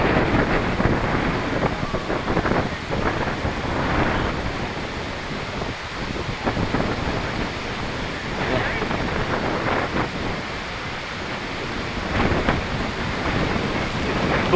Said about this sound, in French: Un bon petit vent aujourd'hui.